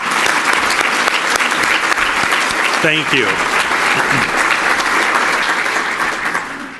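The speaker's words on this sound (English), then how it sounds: "they absolutely deserve a round of applause" A crowd at a press club event breaks into loud, sustained applause, with a brief spoken thanks from a man heard over the clapping midway through.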